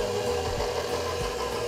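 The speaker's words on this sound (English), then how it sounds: "I'm going to be using my stand mixer" A stand mixer churning flour and butter, a steady low motor whir with a faint rhythmic rumble, close and continuous.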